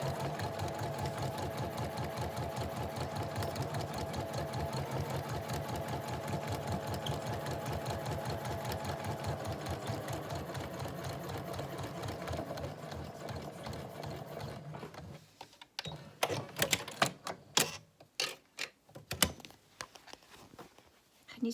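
A sewing machine stitches a zip into a cushion in a fast, even motor-driven chatter for about fifteen seconds, then stops, followed by handling clicks and rustles.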